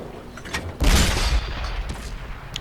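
A tank cannon round bounces off a turret in the World of Tanks console game, heard as one sudden loud boom with a short rumbling tail, followed by fainter distant battle noise.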